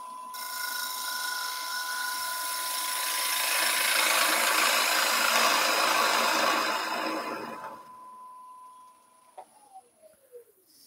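A zebrawood bowl being sanded on a spinning wood lathe gives a loud, broad abrasive whir that rises and then fades as the lathe spins down with a falling whine, followed by faint clicks.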